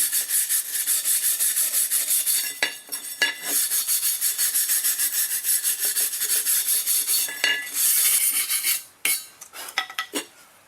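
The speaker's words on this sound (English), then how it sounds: "So just a wire brush, just go all the way around the rim and get as much of the nasty chunks off as you can." A wire brush scrubs rust and loose chunks from the wheel rims of a Murray lawn mower in a steady, loud, rasping scrape with continuous strokes, a few brief pauses and sharper scratches near the end.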